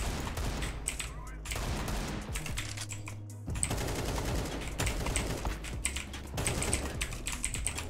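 Rapid AK rifle bursts and Deagle pistol shots crackle in a Counter-Strike 2 firefight, loud and dense with clicking keyboard taps running throughout and brief gaps between volleys.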